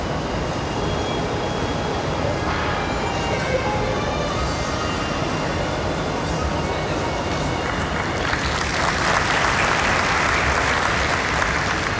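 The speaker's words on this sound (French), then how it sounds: "on entend les encouragements" A crowd applauds and cheers steadily through a gymnastics men's floor routine at the 2006 Glasgow World Cup, a dense, loud wash of clapping that swells near the end.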